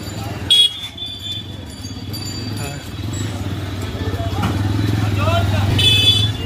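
A modified TVS Raider 125 motorcycle engine hums low and steady, growing gradually louder as it approaches, with someone talking over it throughout.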